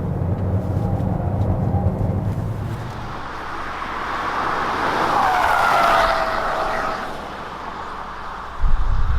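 A 2020 Kia Seltos on Kumho tires drives and corners with confidence, its engine droning steadily under a loud rush of road and wind noise, with a faint tire squeal as it takes the bend.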